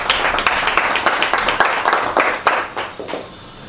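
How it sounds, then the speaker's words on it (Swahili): Audience at a political speech bursts into rhythmic applause, dense overlapping hand claps pulsing loudly and close, then tapering off toward the end. "Piga makofi kwa ajili."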